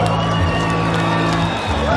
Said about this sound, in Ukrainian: під ваші бурхливі оплески сторона права, аплодуйте!